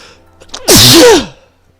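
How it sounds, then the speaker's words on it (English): A single sharp sneeze from a character in the video game Pokemon Legends Arceus, loud and close, preceded by a brief intake of breath and standing alone without talk. "Sneezing aplenty."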